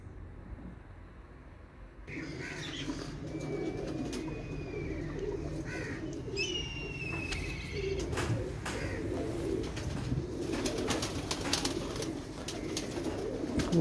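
Pigeons, some wet from rain, cooing softly in the background, with faint bird calls and chirps over a low steady ambient hum, fairly quiet and distant.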